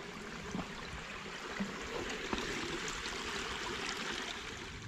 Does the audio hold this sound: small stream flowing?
yes